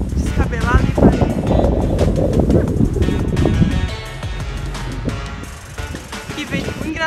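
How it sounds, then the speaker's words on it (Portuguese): Wind gusts through a Paris street at night on New Year's Eve, a steady rough rumble buffeting the microphone beneath lively nearby talk and street bustle. "Que vento engraçado que tá ventando, mas não tá frio."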